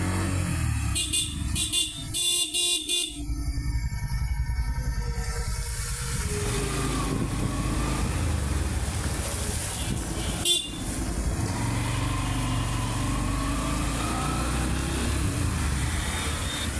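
Traffic on the Dhaka–Mymensingh road at Board Bazar, Gazipur: continuous loud roadside roar of passing vehicles, with clusters of repeated horn honks early on and occasional engine whines.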